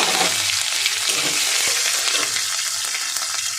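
Black mustard seeds and chopped green chillies frying in hot oil, a dense, close hiss and crackle of sizzling with faint stirring underneath, continuous and without any voices.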